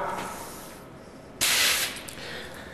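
FRP proportioner gel coat spray gun firing a short burst, a sharp hissing spray lasting about half a second over quiet background noise.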